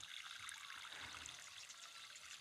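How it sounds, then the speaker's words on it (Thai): Water pours steadily from a container onto the soil around a newly planted kaffir lime tree, a continuous close trickling splash throughout. "นี่หดน้ำตามเลย"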